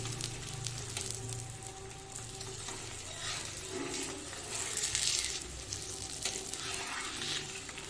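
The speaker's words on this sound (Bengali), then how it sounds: "এই এবার আমি এক এক করে এই পরোটাগুলি ভেজে বন্ধুদের দেখাবো।" Parathas frying one by one in a pan, a steady close sizzle with scraping and stirring sounds and a louder flare of hissing midway, over a low background hum.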